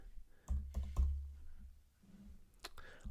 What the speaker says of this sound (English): so I'll just type it in